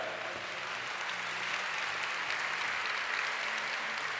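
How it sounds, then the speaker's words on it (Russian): Audience applause for a monastery choir at the opening of a teachers' forum, a steady dense clapping from a large hall crowd that runs unbroken and fairly loud throughout. "Ваши аплодисменты, дамы и господа, хору Сретенского монастыря."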